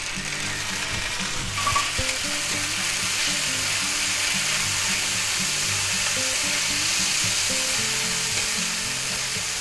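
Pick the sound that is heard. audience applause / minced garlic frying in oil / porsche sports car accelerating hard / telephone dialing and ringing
minced garlic frying in oil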